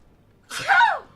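A single sharp sneeze bursts out close by after a moment of quiet, rising then trailing off.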